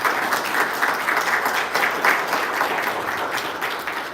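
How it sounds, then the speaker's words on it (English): Audience applause at a faith and science event on the overdose crisis, a steady, full round of clapping from a crowd, fairly close and even throughout. "let's have a round of applause"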